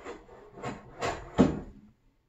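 A hand plane shaves high spots off the bottom of a white cedar piece in four rasping strokes, each sharper than the last, the final one loudest before quiet.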